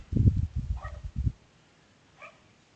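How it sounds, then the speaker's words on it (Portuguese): A neighbour's dog gives two short, distant barks, one a little after the other, faint and thin after a spell of louder low rumbling noise. "Mas esse cachorro é muito chato."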